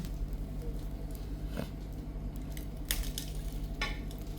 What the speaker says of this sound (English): You can hear these bubbles cracking